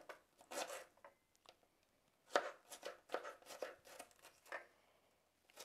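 A knife chops ginger into small pieces on a board in a home kitchen, a run of crisp, close cuts, some quick and clustered, others spaced apart, fairly quiet.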